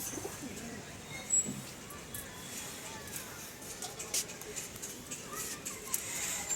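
Soft coos of pigeons in a loft murmur faintly in the background, with low rustling and occasional brief sounds, fairly quiet overall.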